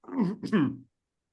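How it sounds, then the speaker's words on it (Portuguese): A man clears his throat in two quick, rough bursts, close and fairly quiet, followed by silence. "agora estava com um pigarro"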